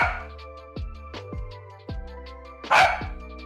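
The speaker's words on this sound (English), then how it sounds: "Bark, bark. I know." A puppy indoors gives several short barks in a loose, irregular rhythm, fairly close and moderately loud, with one stronger, harsher bark near the end.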